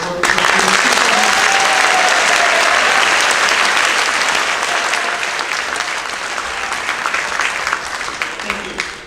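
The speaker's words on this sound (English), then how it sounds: "Round of applause for her." Sustained audience applause fills a high school senior awards ceremony, a dense wash of clapping from a large crowd that holds steady and loud throughout, then slowly thins toward the end.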